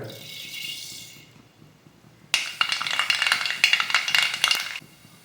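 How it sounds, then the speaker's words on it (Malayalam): Mustard seeds sputter and pop in hot coconut oil, a quiet start breaking into a loud, dense crackle of rapid sharp pops after a couple of seconds, close by with no voice. "അപ്പോൾ കടുക് പൊട്ടി വന്നിട്ടുണ്ട്"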